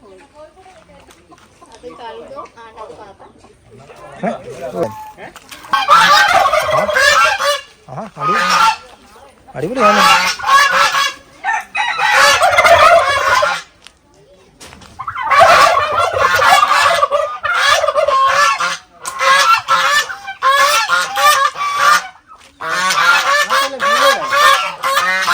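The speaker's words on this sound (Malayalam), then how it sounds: "ഇത് കോഴി ഫാമാണ്" Chickens and other poultry at a chicken farm call and cackle loudly in repeated bursts, with people talking between and over the noisy flock.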